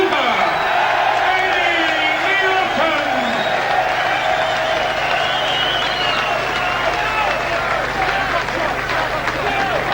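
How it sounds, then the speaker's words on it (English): A boxing crowd at Joe Bugner versus Eddie Neilson applauds Neilson, a sustained wash of clapping and crowd noise heard continuously beneath a voice talking. "There'll be big applause for Neilson."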